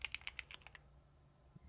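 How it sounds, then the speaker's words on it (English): Quick, light taps on a computer keyboard, about eight close keystrokes in a short burst that then stops, leaving quiet room tone. "I'm tired of typing out all that vector stuff."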